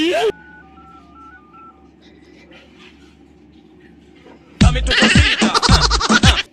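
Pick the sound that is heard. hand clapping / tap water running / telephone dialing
telephone dialing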